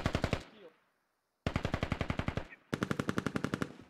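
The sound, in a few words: suppressive machine gun fire in the video game Squad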